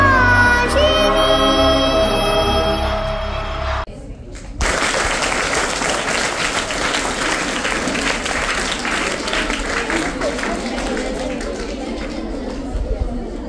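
A school crowd at an Independence Day celebration claps loudly and steadily for over nine seconds, dense and sustained, after a brief stretch of sung or announced voice with music that cuts off.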